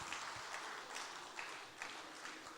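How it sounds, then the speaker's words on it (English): Attendees at a climate change summit breakout session give a round of applause, a faint, even wash of distant clapping from a hall that continues steadily throughout. "I think everybody deserves a round of applause"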